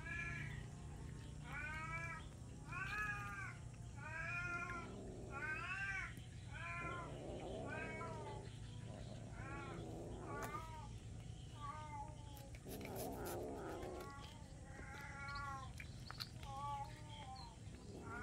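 A stray cat meows repeatedly in a steady series of rising and falling calls, fairly quiet against a low background hum.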